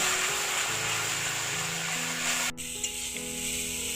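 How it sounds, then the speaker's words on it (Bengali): Spices sautéed with Kashmiri chilli powder and turmeric for a vegetarian soybean dish, a dense continuous sizzle with stirring scrapes, loud and close; partway through, a brief sharp break drops the hiss before the frying continues steadily. "এখানে কাশ্মীর লঙ্কার গুঁড়ো দিয়ে ভালোভাবে আবার একটু কষে নেব"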